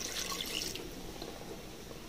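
Water poured from a cup into a cooking pot of tapioca biryani, a steady close splashing and trickling stream with no talk.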